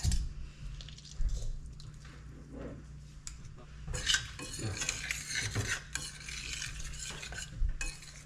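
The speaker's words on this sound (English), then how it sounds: "So I just squeeze out the oranges" Oranges are squeezed by hand in a home kitchen while cooking Thanksgiving dishes, giving quiet wet squishing and squelching with occasional clinks of utensils and dishes, close and faint, with no talk.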